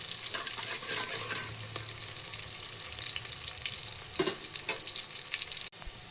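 Onions sizzling in hot oil as a tempering for fish curry, a steady close crackling fry with occasional stirring scrapes and a sharp clack near the end.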